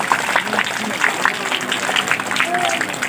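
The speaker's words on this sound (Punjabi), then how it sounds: "ਇਹਨਾਂ ਆਂਟੀ ਦੇ ਨਾਂ ਦੇ ਇੱਕ ਵਾਰੀ ਤਾੜੀ ਲਗਾ ਦਿਓ ਜ਼ਰੂਰ" A crowd applauds a guest at a school Teeyan festival in Punjab, with steady clapping that continues as a voice talks over it.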